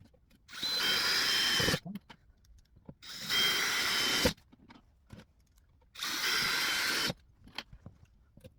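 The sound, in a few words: power drill driving screws into wooden toolbox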